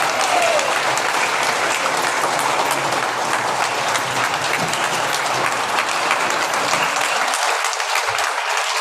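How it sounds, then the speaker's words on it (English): A church congregation claps during a Sunday worship service, giving a loud, full round of applause that holds steady and then starts to thin out near the end. "just one more big round of applause for these wonderful"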